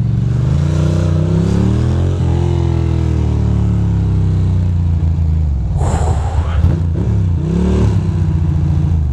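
A Ducati motorcycle engine runs close by with a loud, low, throbbing exhaust note that rises and falls in pitch as it revs, with a brief sharper burst partway through.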